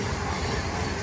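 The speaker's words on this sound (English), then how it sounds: "Tesco train." Class 66 locomotive 66423 hauling a Tesco freight train on the West Coast Main Line, a brief, dense rumble of passing wagons with steady rolling noise, close and loud, no talking.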